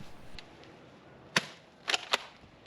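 Salt-shooting gun firing at cucumber beetles in a garden: a faint single pop, then a quick burst of two or three sharp cracks close together, over quiet background.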